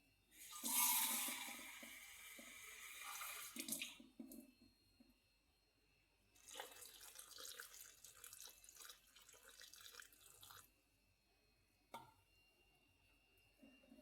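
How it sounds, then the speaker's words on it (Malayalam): Tap water runs into a bowl of soybeans being filled for soaking, a gushing splash in bursts with quiet gaps between, fairly close and alone without talk. "നിറച്ച് വെള്ളം ഒഴിച്ചിടാം."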